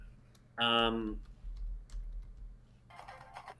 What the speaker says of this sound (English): Just focus on typing it in.